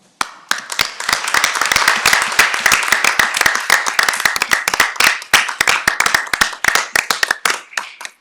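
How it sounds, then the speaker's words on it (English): Applause from a school board meeting audience honoring career and technical education teachers, dense, steady clapping from many hands close by, sustained for several seconds with no talk over it. "could you please stand up so we can give you a round of applause?"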